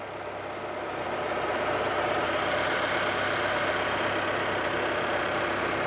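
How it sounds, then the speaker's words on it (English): A 2023 Nissan Sentra SV engine idling with the hood open, a smooth, steady, fairly quiet hum that holds evenly from start to finish. "Idles very smooth, very quiet."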